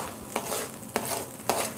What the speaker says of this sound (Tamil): இப்போ வந்து நம்ம வேர்க்கடலையை போட்டுட்டோம்.